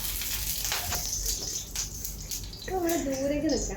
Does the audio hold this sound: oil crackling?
yes